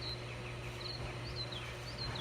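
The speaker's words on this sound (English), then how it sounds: "the birds are starting to wake up and they're starting to chirp and stuff like that." Birds chirp in the early morning around a back porch, several faint, thin repeated calls over a low steady background hum.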